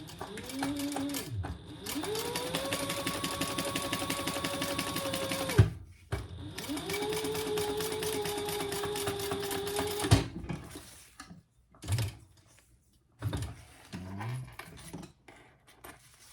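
Sewing machine stitching a seam in marker canvas fabric, two long steady runs of fast motor-driven needle chatter with brief stops between, followed by scattered clicks and handling noises, no talk.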